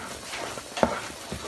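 A thick mixture cooked like a roux is stirred in a pot for kachata, producing a low scraping swish with a soft sizzle and one sharper knock of the utensil against the side.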